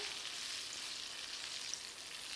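Breaded chicken tenders fry in a pan for Southern praline chicken, giving a steady, even sizzle that holds close and constant throughout with no talking.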